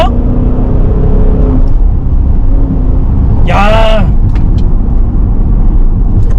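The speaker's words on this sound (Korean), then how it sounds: "스포츠 코르사 모드로 딱 바꾸고, 네, 서스펜션 넣고 한번 가보겠습니다. 배기음 다르죠?" A Maserati Levante Trofeo 580-horsepower V8 in Sport Corsa mode, its exhaust a steady deep drone heard from inside the cabin, with a brief rising whine midway and someone speaking briefly over it.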